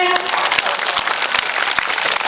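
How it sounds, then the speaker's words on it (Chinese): An audience at a church culture-centre children's music performance claps loudly and steadily, a dense close wash of applause with no one speaking. "再一次给他们热烈的掌声。"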